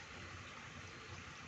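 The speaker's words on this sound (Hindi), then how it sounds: "खाल दे विच पानी आ रहा है" Water flowing along a village irrigation channel in Punjab, a steady faint rushing and gurgling wash with no breaks.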